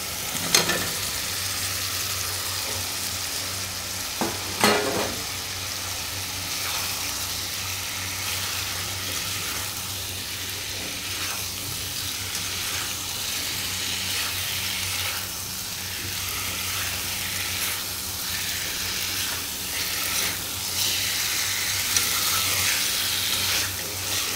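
Fried potatoes and eggs are stirred into a frying spice paste, giving a continuous close sizzle with occasional spoon knocks and scrapes.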